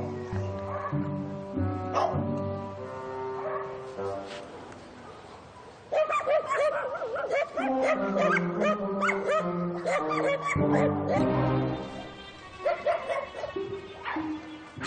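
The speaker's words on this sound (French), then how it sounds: "l'arrivée des singes déclenche un concert d'aboiements." Several dogs bark and yip in an excited chorus as a troop of baboons arrives, close and fairly loud, with overlapping calls that swell and continue throughout with a few whimpering notes.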